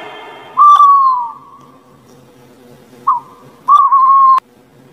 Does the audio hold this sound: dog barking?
no